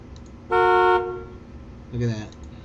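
Car horns honking in a traffic jam in the SimCity 2013 city-building game, one long steady toot followed by a shorter, lower honk.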